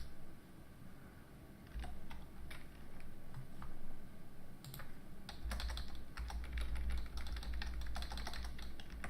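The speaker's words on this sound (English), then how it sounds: "Oh, I'll just type in." Someone types on a computer keyboard, with quiet, irregular clicking keystrokes in short bursts and close-up clatter over low background hum and no talking.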